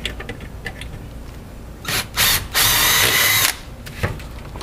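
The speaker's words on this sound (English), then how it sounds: "So my next step is to drill" A power drill whirs in short bursts while drilling a pilot hole during storm door installation, a couple of brief spins followed by a longer sustained run, close and loud.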